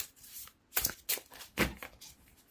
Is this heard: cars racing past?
no